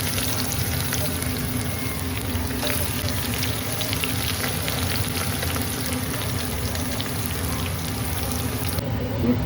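Onion with whole spices such as fennel, cloves and cinnamon frying in a pan for a country chicken sukka, a steady close crackling sizzle running continuously throughout.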